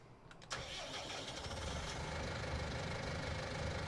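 A small Actron tractor in Farming Simulator 19 cranks and catches, then settles into a steady, close, medium-pitched diesel idle that carries on to the end.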